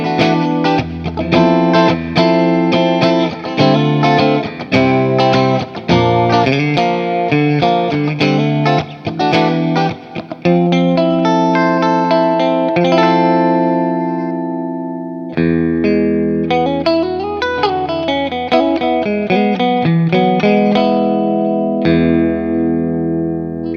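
A clean Danelectro 59 Triple Divine electric guitar on the middle pickup position plays chords and single-note runs, bright and close, letting some notes ring out before a final sustained chord.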